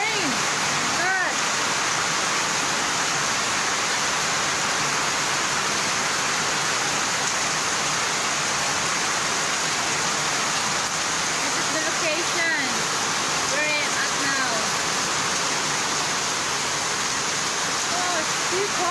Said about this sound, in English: And the rain is heavy. Extremely heavy rain.